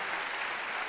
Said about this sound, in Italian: io direi che l'applauso fate a chi ha lavorato